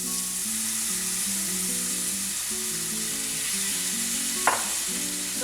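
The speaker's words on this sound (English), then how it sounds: "So we need to saute these corns for approximately 3 to 4 minutes." Boiled sweet corn sautéing in a pan makes a constant close sizzle over a low hum, with one brief sharp clink near the end.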